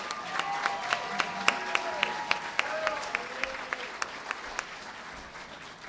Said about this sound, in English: let's give Cherie another round of applause